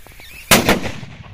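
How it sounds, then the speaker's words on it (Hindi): A small explosive charge blasts a lock open, one sharp loud bang followed by a brief ringing decay, with faint quiet sounds before it. "यहाँ पर धमाका हो चुका है और हमारा लॉक टूट के नीचे गिर चुका है"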